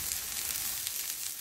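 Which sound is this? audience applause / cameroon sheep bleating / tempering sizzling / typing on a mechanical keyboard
tempering sizzling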